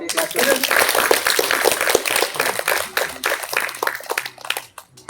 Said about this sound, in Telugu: ఒకసారి క్లాప్స్ కొట్టండి గట్టిగా